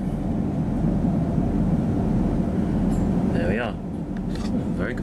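A train pulls into Blaydon station on a day trip to Hexham, its steady low rumble filling the foreground, with brief speech over the top.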